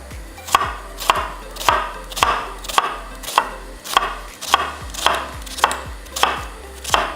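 A knife chops an onion on a cutting board, about a dozen steady rhythmic thuds close up and alone, each stroke crisp and evenly spaced.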